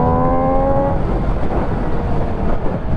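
An MV Agusta Dragster RR motorcycle engine roars loud and close, with a clear revving tone at first and then a dense rumbling drone, recorded over wind noise.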